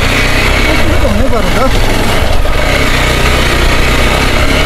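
A motorcycle engine drones steadily and loudly throughout, close by, with a rough mid-pitched rumble and slight revving.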